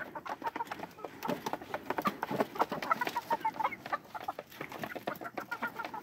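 Young chicks peeping and chirping in a busy, continuous chorus of short high calls, fairly close, with no talking.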